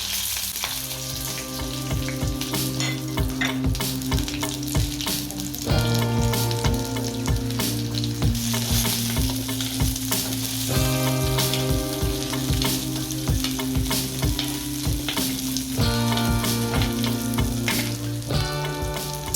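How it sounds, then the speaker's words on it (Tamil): Shallots and green chillies fry in a little hot oil in a heated pan. A loud, continuous sizzle crackles throughout, broken by repeated rhythmic stirring strokes. "சின்ன வெங்காயம், இந்த மாதிரி பச்சை மிளகு போடலாம்."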